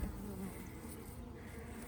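Honey bees swarm over a hive frame in a beekeeping yard, a steady, close, dense buzzing drone with no pauses.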